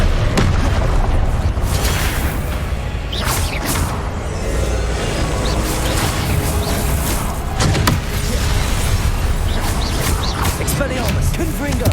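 Confringo fire spell blasts in the Hogwarts Legacy video game go off as repeated loud booms and sharp pops amid constant battle noise, with a voice talking through it.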